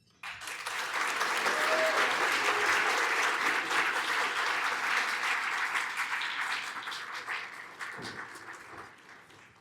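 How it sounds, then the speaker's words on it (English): A gala audience at a 27th anniversary fundraiser gives sustained applause, a dense, steady wash of clapping that swells quickly, holds for several seconds and then tapers off near the end. "Please give another round of applause to Jean, please"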